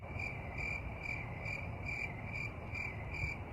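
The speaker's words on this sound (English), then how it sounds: "Crickets again." Crickets chirp as a sound effect, a steady rhythmic series of evenly spaced high trills repeating over a soft low background rumble.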